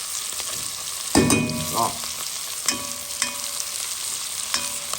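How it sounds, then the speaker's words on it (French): Onions frying in hot oil for a boucané with peas, with a continuous hiss of sizzling broken by several sharp pops and clinks of stirring close by; one brief spoken word. "Je laisse les oignons gagner son compte dans l'huile chaude."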